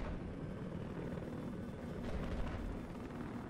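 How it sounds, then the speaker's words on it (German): Steady, continuous helicopter rotor and engine roar from a video game, loud and unbroken throughout with a slight swell midway, no voices over it. "Ich glaube, das ist ein anderer Hubschrauber,"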